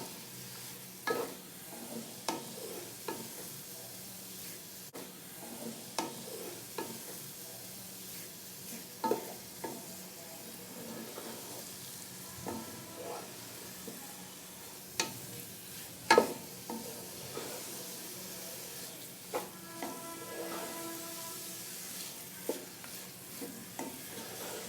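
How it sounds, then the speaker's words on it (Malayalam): A sweetened chana dal laddu mixture being stirred in a pan over the flame, soft scraping strokes and light taps recurring every second or two over a faint sizzle, no voices. "നന്നായിട്ട് മിക്സ് ചെയ്ത് കൊടുക്കാം."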